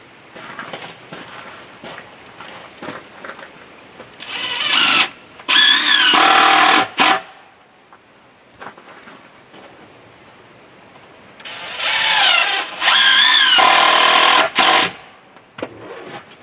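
A power drill drives screws into a cabin wall header. Two clusters of loud, whirring bursts rise and cut off, separated by quieter handling and knocking. No one speaks.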